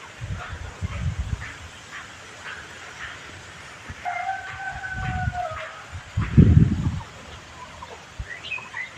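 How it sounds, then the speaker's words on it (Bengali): Geese and Chinese ducks in a mango orchard garden give a few brief honking calls near the middle, over low rustling and soft handling thumps outdoors. "এখানে আমার বাগানে এখানে রাজহাঁস, চীনা হাঁস, এইদিকে টার্কি মুরগি।"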